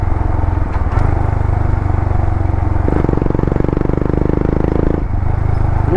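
A Royal Enfield Himalayan 411 cc motorcycle fitted with an Akrapovic exhaust rides along a lane, its engine thumping steadily and loudly throughout with slight shifts in pitch and load.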